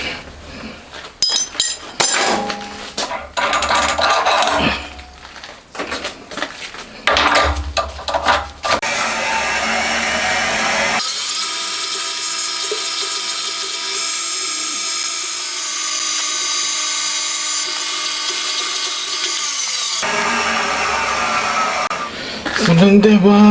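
A milling machine drills a hole, first with intermittent cutting and clatter, then a steady high-pitched whine runs for about ten seconds before the sound changes again.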